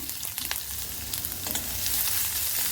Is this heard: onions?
yes